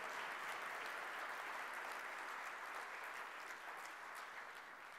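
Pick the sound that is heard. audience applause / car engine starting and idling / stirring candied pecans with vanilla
audience applause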